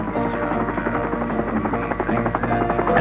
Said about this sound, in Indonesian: Dan tim helikopter sangat berjasa dalam usaha membawa barang-barang untuk kami.